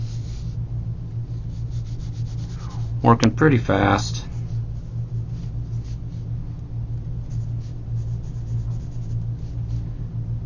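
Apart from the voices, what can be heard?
pencil sketching on paper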